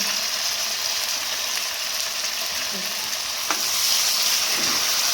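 Tomatoes frying with salt in a pan give a continuous close sizzle, with an occasional soft clink of a spoon stirring, and no voices.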